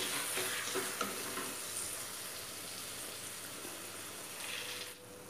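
Chopped tomatoes fry and sizzle in mustard oil with ginger, garlic and onion for mutton keema, a steady close hiss with soft stirring sounds, moderately quiet.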